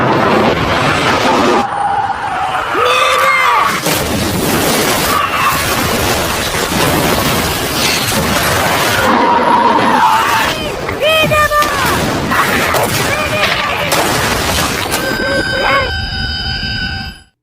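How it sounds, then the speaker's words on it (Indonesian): Mortar fire and explosions during a battle in the Vosoko area, with dense booming and crackling blasts going on throughout, loud and continuous and mixed with engine-like rumble and other battlefield noise. "Situasi kembali mencekam saat pasukan musuh menyerang mereka dengan serangan mortir."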